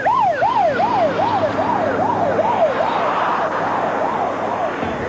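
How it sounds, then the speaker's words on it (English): A rescue vehicle's wailing siren heading to an incident on the Dames Point Bridge, rising and falling in rapid regular sweeps, loud and close over traffic rumble, slowly fading toward the end. "Rescue 18 will respond to the incident on the bridge, lights and sirens."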